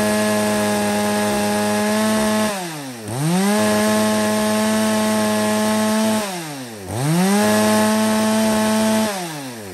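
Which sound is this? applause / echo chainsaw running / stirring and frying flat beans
echo chainsaw running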